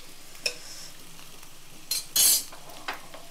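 A spoon stirs mutton curry masala ingredients with cashews in a pan, giving a few soft scrapes and a brief louder clatter near the middle over a quiet background, with no talk.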